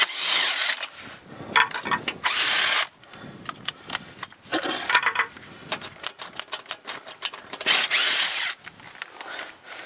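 A power tool spins off 3/4 inch lug nuts on a 2003 Ford Explorer wheel, loud close bursts of whirring and rapid rattling hammering, separated by short pauses.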